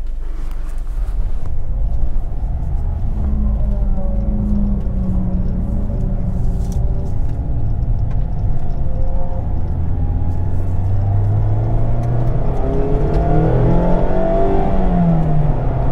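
Loud, continuous engine of a Mazda MX-5 ND2 sports car roaring and revving at speed, rising and falling through gear changes as it drives hard around Croft race circuit.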